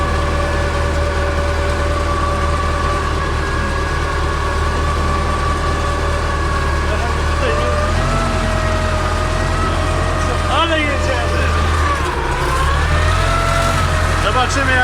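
The heavy diesel engine of an MTZ-82 tractor drones steadily under strain while ploughing, loud and close, its pitch wavering slightly as it labours on, with faint rattles in the background.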